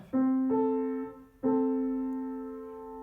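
Two tones at a 3:5 frequency ratio sound together as a harmonious interval, struck twice in a row, each ringing and slowly fading, with no voices.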